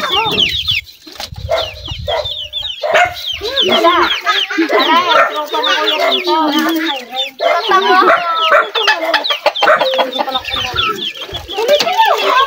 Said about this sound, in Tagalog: Marami po silang alagang mga manok.